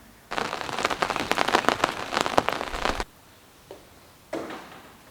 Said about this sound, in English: Oh wow, there's a lot of rain coming in now.